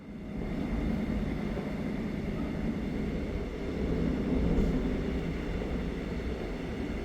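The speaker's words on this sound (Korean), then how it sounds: "이 열차는 빠르진 않지만 기차 여행의 낭만은 오히려 더 진하게 다가옵니다" Steady low rumble and rattle of the Jeongseon Arirang tourist train moving slowly along the rails in Korea, constant and moderately loud throughout with no voices.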